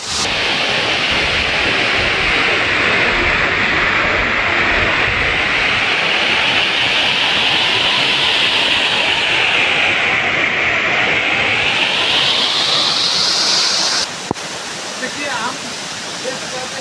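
Waterfall dropping from a great height at a hidden forest spot: a loud, steady, continuous roar of rushing water fills the whole clip, heard close up with no pauses.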